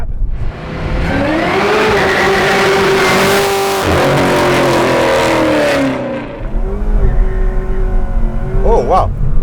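A 650 hp supercharged LSA Chevy SS sedan launches hard with its wheels spinning in first gear, the engine note climbing loud and close. It drops away briefly, then rises again before easing off, with people speaking near the end.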